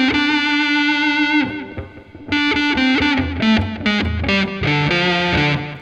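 A heavily distorted Gibson Les Paul electric guitar plays a chunky riff, loud and close, with sustained notes broken by short choppy stabs and a brief pause.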